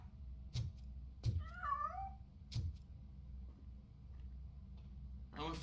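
A cat meows in the RoboCop video game, one wavering mew in the middle amid regular heavy thudding footsteps.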